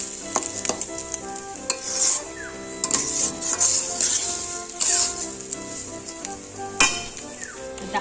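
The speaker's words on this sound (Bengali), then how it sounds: "এটাকে ভালো করে নাড়াতে হবে এবং এটাকে একটু ভাজা ভাজা মতো করতে হবে" Rice for basanti pulao stirred and fried in a pan, with steady sizzling under repeated scraping and clinking strokes of a spoon against the pan, close and moderately loud throughout.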